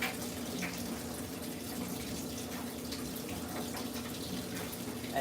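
An Amana direct drive washing machine fills with water, a steady rushing flow with a low hum underneath, continuous and moderately quiet, no one talking.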